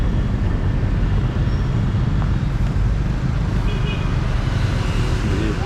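Morning traffic at a bus terminal in Ho Chi Minh City, a steady loud rumble of passing engines and road noise with no clear voices.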